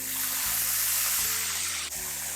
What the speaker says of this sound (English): And now around 1 tablespoon of vinegar.